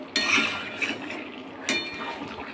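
Potatoes and chicken curry are stirred in a pan, with two sharp metallic clinks of a utensil against the pan over a soft sizzling fry, close and moderately quiet.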